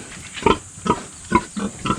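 Pigs in a pig pen give a series of about five short grunting oinks in a loose, uneven rhythm, close and fairly loud, with no talk over them.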